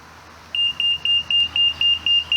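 Level detector receiver beeping in a steady series of short, even electronic pips at brickwork, starting after a brief quiet moment and repeating about every quarter second.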